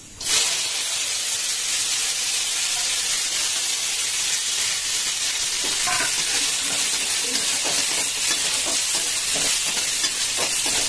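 Cashews and raisins frying in oil in a pan, a loud continuous sizzle and hiss throughout, with occasional stirring scrapes.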